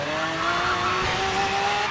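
Car tires squealing and skidding in a racing video game while sliding even in fourth gear, a sustained high-pitched screech over the engine drone.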